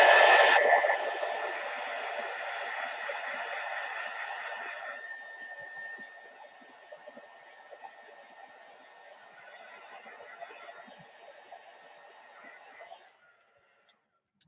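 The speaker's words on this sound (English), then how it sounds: "I'm going to turn on my heat tool, but you should only hear it for a brief second" A heat tool blasts a steady, loud whooshing hiss while drying wet paint on leaf artwork, then drops to a softer, continuous blowing for several more seconds before cutting off near the end.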